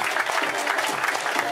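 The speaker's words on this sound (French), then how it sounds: "Madame, monsieur, vos applaudissements, Sarah Storey." An audience applauds a winning cyclist at a women's stage race podium ceremony in Brittany, a steady dense clapping that holds evenly throughout and is close and fairly loud.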